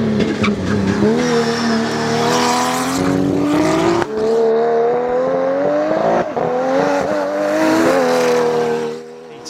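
An Unlimited Class race car at the 2020 Pikes Peak International Hill Climb roars past at full throttle, its loud, continuous engine note climbing in pitch between gear changes and then fading at the end.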